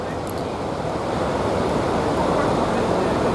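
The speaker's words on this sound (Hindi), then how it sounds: "हमारे होटल के बिल्कुल साथ ही दरिया अस्तौर बह रहा है और आप देखें कि कितना शोर है दरिया का" The Astore River, swollen with rain water, rushes past right beside a hotel, a loud, dense, unbroken roar of churning water that holds steady throughout.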